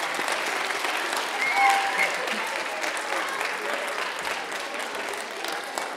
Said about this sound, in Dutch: Jullie mogen ook een applaus voor jezelf geven